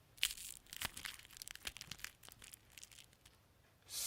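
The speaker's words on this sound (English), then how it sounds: "Candy wrapper loud." A candy wrapper is crinkled close up, giving quiet, irregular crackles and crisp rustles with a faint noisy hiss.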